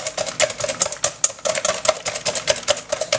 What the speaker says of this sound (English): Whisk it good.